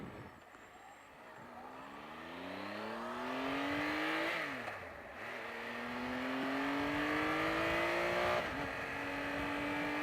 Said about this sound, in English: The quick shifter is great. You don't have to press the clutch.